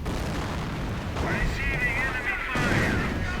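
Artillery fire booms in a real-time strategy battle, with a low, rumbling barrage and a rising whistling shell sound midway, under continuous commentary.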